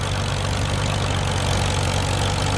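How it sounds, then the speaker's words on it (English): A 1941 H antique tractor pulling a two-bottom plow at an antique plowing event, its engine chugging in a steady, loud, low idle-like rhythm with no voices. "a 1941 H, pulling a 2-bottom plow"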